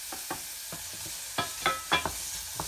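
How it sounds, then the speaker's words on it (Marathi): Chopped onion frying in a pan for Goan fish curry, with a soft continuous sizzle and repeated scraping stir strokes at an irregular rhythm, close and moderately quiet. "कांदा चांगला फ्राय करून घ्यायचा"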